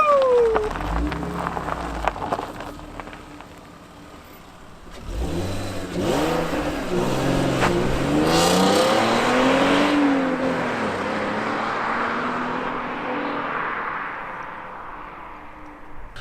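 BMW six-cylinder engine revs up and down while driving, the pitch sweeping through several climbs and drops, loud and close inside the car, with a hissy, rain-like wash underneath and no talking.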